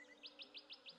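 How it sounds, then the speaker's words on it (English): Quiet bird chirps from the game Stardew Valley repeating at an even pace, five or six short high tweets over a soft steady background hum. "listen to those birds chirping"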